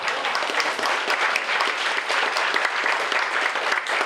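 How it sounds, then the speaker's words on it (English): Audience at a Vietnamese women's association political event gives a sustained round of applause, dense crisp claps at moderate loudness throughout with no talk on top. "Please give them a round of applause."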